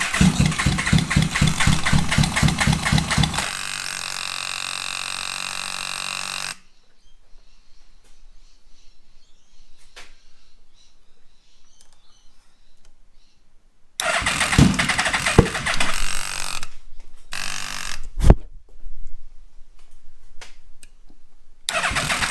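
A Yamaha Vmax motorcycle engine runs loud and close with a rough, pulsing idle. It cuts out into near silence, then restarts with uneven bursts and sputters.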